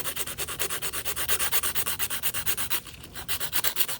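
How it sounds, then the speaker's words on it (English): A coarse nail file rasps steadily across the edges of a UV resin pendant in quick, even back-and-forth strokes, close and clear, with a brief pause near the end before filing resumes. "I'm just going to grab my nail file a little bit coarser than the white one"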